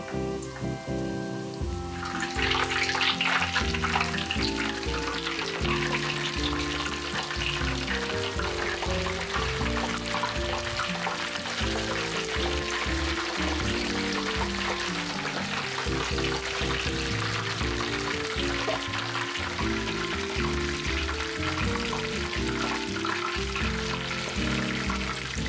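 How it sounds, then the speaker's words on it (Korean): Dried pollock strips fry in hot oil with a dense, steady crackling sizzle that stays loud and even from start to finish, without any voices. "북어포도 노릇노릇해지도록 튀겨주세요."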